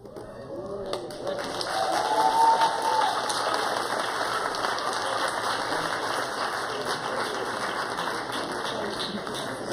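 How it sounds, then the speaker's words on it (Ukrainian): Applause from a congregation at a church service, a steady wash of clapping rising after the first couple of seconds and holding at moderate level, with a voice briefly audible early on. "вже такі овації"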